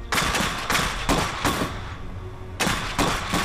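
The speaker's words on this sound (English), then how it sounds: "Open fire!" Soldiers in the Iron Harvest strategy game open fire, with repeated loud bursts of rifle and machine-gun shots in rapid clusters and a brief lull before another volley.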